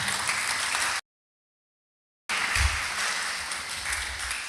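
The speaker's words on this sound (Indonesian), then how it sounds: "Tepuk tangan." Church congregation at a Christmas service applauding, a full room of clapping heard loud and close, broken by a sudden gap of complete silence before the clapping resumes.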